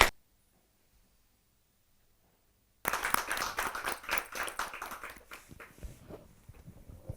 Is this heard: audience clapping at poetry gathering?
yes